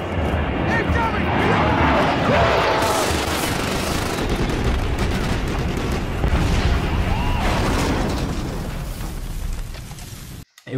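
Artillery shells bursting in a played combat video, a dense rolling barrage of booms and rumbles, loud at first and easing slightly, with voices talking over it.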